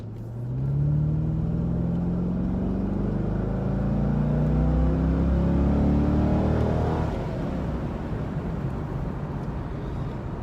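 A C5 Corvette's non-turbo engine roars as it accelerates hard, the pitch climbing steadily through gears before easing off into a lower cruising drone.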